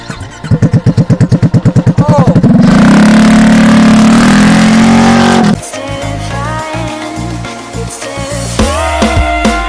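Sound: Yamaha Xmax300 scooter engine and exhaust running

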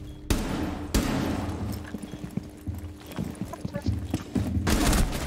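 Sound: gunfire in the video game Rainbow Six Siege

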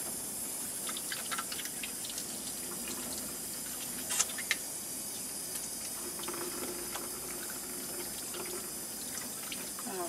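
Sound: washing hands under a running tap

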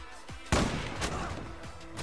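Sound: gunfire in the video game Zula

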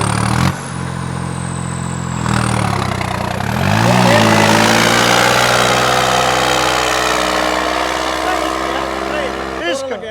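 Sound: New Holland 3630 tractor engine running

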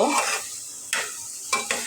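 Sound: stirring chickpeas frying in a pan

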